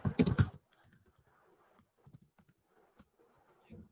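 Computer keyboard typing during a networking lab session: a quick burst of keystrokes up front, then sparse, faint taps and clicks scattered through near-silence.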